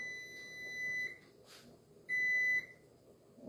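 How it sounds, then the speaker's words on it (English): A kitchen timer signals that boiling eggs are done, giving two steady electronic beeps about a second apart, each lasting roughly half a second over a quiet room hum. "that timer's done on the eggs"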